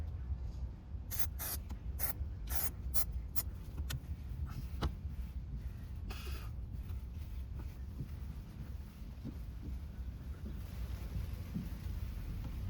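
Adhesive sprayed from an aerosol can onto a truck headliner during a repair, a series of short sharp hissing bursts near the start followed by a longer spray, all over a steady windy, noisy background.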